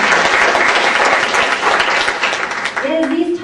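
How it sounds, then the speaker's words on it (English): Audience applause for three partner organizations at an anti-human-trafficking event: dense, steady clapping from a crowd that fills the whole span, with a voice starting to speak beneath it near the end. "we have another round of applause for our three organizations"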